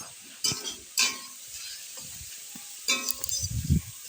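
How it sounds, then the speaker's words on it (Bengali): Red amaranth greens (lal shak) stirred in a pan with salt and turmeric, giving a few sharp scraping spoon strokes over a soft, steady background sizzle, with a denser burst of stirring near the end. "এবার কিছু সময় নাড়তে থাকবো"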